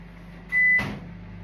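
Microwave oven heating cream for a Tagada strawberry dessert: a single steady electronic beep, then a sharp clunk of the door opening over a low background hum, close and fairly loud.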